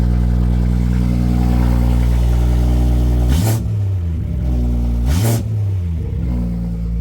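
BMW X3 M40i with a newly installed Dorch 2.5 high-pressure fuel pump, downpipe and tune, idling loud and steady close by, with two brief blips that dip the drone around the middle and near the end.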